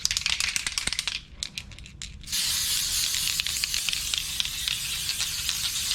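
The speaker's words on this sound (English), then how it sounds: "Now the secret ingredient is gold cupcake spray." An aerosol can of gold cupcake spray hisses in short rattling bursts, then releases one long continuous spray onto beer, close and loud.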